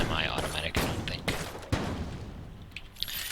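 Gunfire from a semi-automatic style weapon in the dungeon-crawler shooter Enter the Gungeon, with several sharp shots spread irregularly over a few seconds, loud and close over a busy game soundscape.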